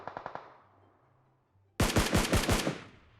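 PUBG Mobile gunfire: a quick faint burst of about five shots, a pause, then a loud close burst of automatic fire that fades away.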